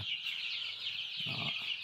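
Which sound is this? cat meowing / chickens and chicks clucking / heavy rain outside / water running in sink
chickens and chicks clucking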